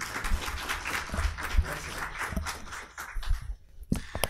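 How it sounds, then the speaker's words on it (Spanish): An audience claps in steady applause that carries on for several seconds before thinning out near the end. "quisiera que lo recibamos con un fuerte aplauso como bienvenida"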